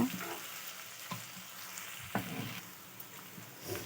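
Chopped tomato fries in a pan for paneer bhurji, a soft steady sizzle broken by a few scraping stirs of a spatula, close by and without speech.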